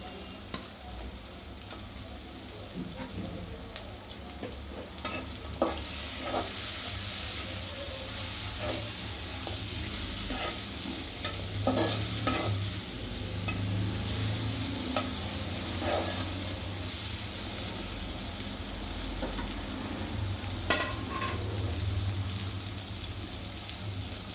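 Green chilies are tossed into a hot pan of oil and stirred, giving a steady broadband sizzle with scattered scraping strokes of the spoon, close and even, with no talking.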